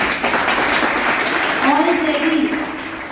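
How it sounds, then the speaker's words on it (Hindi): Students applauding inside a gurukul classroom during a spiritual talk, a steady wash of clapping from a nearby group that holds for the full few seconds, with a voice speaking briefly over it partway through. "सब इसके लिए ताली करो"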